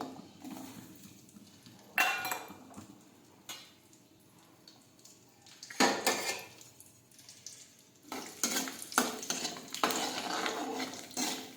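Garlic, mustard seeds and cumin sautéing in hot oil in a pan, heard as intermittent clattering stirs of a spoon against metal with quiet frying between bursts, close by.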